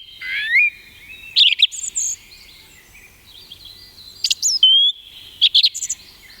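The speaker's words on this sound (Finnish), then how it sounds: "ensimmäisenä olisi laulurastas" A song thrush recording plays back, with clear, loud repeated whistled phrases and chirps in short bursts separated by quiet pauses.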